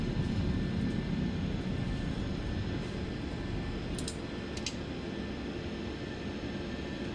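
Steady broadband roar of an airliner's engines at full power during a takeoff roll in Microsoft Flight Simulator, sustained and fairly loud throughout with no talk, a couple of brief faint clicks partway through.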